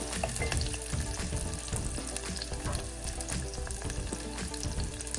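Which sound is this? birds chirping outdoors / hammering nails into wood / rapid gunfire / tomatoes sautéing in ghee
tomatoes sautéing in ghee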